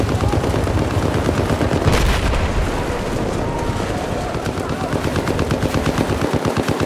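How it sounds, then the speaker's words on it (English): Pistol gunfire in the online multiplayer shooter Battlefield 4, on a flooded urban conquest map, heard as a dense run of loud, sharp shots layered over the constant roar of battle, with no talking. "It's time to use my pistol."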